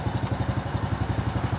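A motorcycle engine, just serviced with a new battery, fires on the first start and settles into a steady, close, rhythmic idle with an even pulsing chug, heard alone.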